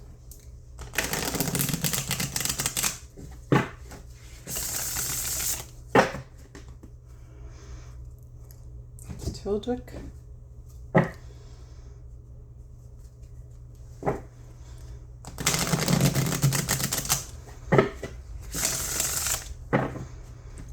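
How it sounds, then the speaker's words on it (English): Tarot cards are shuffled in several riffling bursts, close and crisp, separated by quiet pauses with occasional taps and a brief spoken word. "I am going to give them one last shuffle without those 22 cards."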